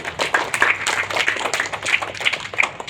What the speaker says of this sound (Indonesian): Kasih tepuk tangan buat temannya.